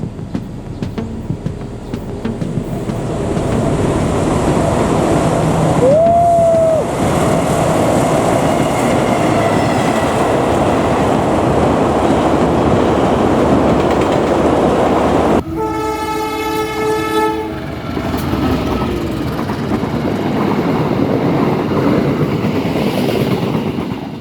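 A train rumbles past close by on a long railway bridge, steady and loud, with a horn blast partway through and a longer, harmonic horn sounding near the end.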